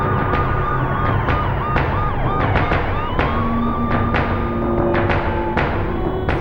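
Several ambulance sirens wail and overlap at a crowded shrine in Pakistan after an attack, loud and steady over a dense backdrop of crackling bangs and commotion.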